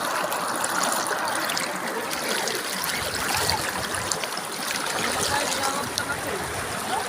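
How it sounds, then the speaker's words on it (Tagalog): Strong river water rushes over a mountaintop at the Maples River in Aguilar, Pangasinan, giving a steady, dense, loud roar for the whole stretch. "Sobrang lakas ang tubig."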